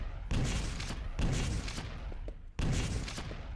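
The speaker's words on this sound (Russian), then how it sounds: "ракеты взрываются" Repeated rocket explosions in a competitive arena shooter match at a lucY Cup tournament round, three heavy broadband blasts with bursts of gunfire-like crackle between them, loud and close.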